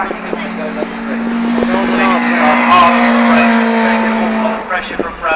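Racing cars at Silverstone circuit sweep past with a loud, sustained engine drone that rises and fades, while a commentator talks over it.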